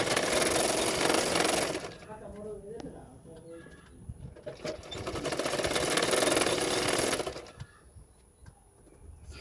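A sewing machine stitches along a fabric edge on the extra sleeve fabric of a katori blouse. It runs in two close, steady bursts with a pause between them, and someone speaks during the gap.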